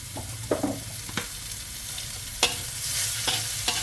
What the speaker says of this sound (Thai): พริกแดงจินดากับกระเทียมนะคะ ลงไปผัดค่ะ ใส่น้ำมันก็กหน่อยหนึ่งนะคะ